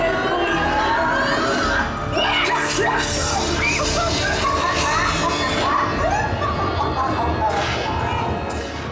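At a Halloween Horror Nights show at Universal Orlando, a crowd cheers, shouts and yells loudly and continuously, with scattered voices mixed into the roar.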